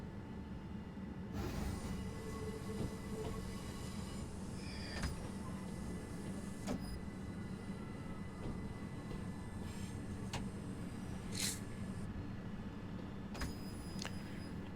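A train shunts in the Train Sim World 6 simulator on the Medway Valley Line, a low steady rumble of wheels and engine with occasional faint squeals, clanks and beeps.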